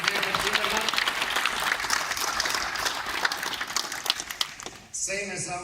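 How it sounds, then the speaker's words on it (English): Audience applause at a world minigolf championship opening ceremony, a dense steady clatter of clapping from a crowd filling most of the moment before it fades and a voice starts speaking. "Please, one applause for Gerhard Zimmermann."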